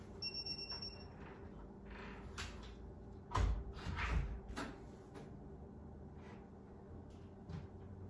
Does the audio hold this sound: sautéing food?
no